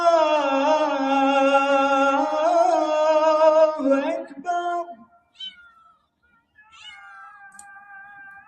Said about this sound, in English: Oh, look, little kitty.